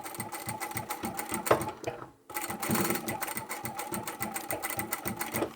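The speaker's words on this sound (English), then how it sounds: "when you get to the end, you'll back stitch" A sewing machine runs in quick rapid bursts while back stitching the end of a braided rope handle on a market bag, pausing briefly mid-clip before the steady mechanical chatter resumes up close.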